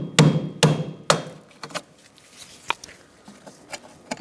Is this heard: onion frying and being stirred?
no